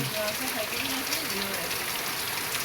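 Steady light rain falls across a rural area in broadband patter, with some faint voice-like tones in the background.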